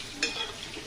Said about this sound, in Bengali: টমেটোগুলো সুন্দর করে কষিয়ে নেব।